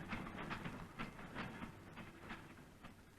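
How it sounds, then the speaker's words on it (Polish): A freight train rolls along with rhythmic clickety-clack of wheels over rail joints, a steady rumbling beat, faint and somewhat distant. "wskakiwał na pociągi towarowe"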